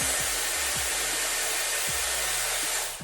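A Dyson Airwrap blows a steady cold shot on hair, a loud, close, continuous rushing whoosh with a low pulsing undertone that tapers off at the end.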